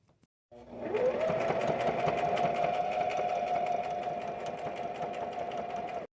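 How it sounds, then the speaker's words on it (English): A sewing machine stitches two cut fabric hearts together, starting abruptly and running in a steady, close, loud whirring drone with rapid needle ticking for about six seconds, no voices. "Now I'm just going to go to the machine and sew them together"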